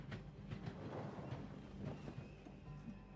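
Train rolling on rails in the Void Train video game: a faint, low rumble with soft periodic clicks and clatter, steady and quiet throughout, with no voices.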